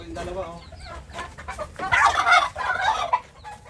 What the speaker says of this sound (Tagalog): Ito yung mga manok niya